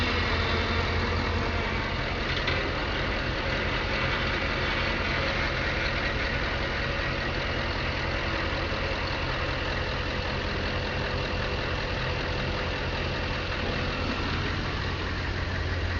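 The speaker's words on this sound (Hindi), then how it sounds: "मैं अपनी गाड़ी का बूम उठा रहा हूँ" Truck engine running steadily while the vehicle raises its boom, a constant loud idling drone with low rumble and no break over the whole stretch.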